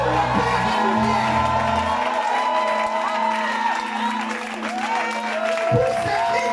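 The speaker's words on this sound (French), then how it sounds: "Pousse les cris de joie pour le Père des Lumières." Congregation in a church service erupting in loud sustained shouts and cheers of joy, a dense crowd roar with whoops and a musical tone running underneath throughout.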